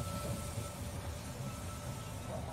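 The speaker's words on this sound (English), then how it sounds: "The train has arrived at the station." A train pulling into a station in the strategy game They Are Billions, a steady rumbling rail clatter with a faint sustained whistle-like tone, moderately loud and continuous with no talking.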